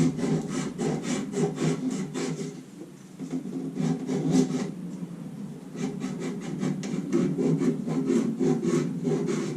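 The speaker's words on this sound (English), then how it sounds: "use the broken belt piece, sand it around it" An old wooden chair being turned into a rocker is sanded by hand with a broken piece of sanding belt, making a loud, close, rhythmic back-and-forth rasping in steady strokes with a brief pause midway.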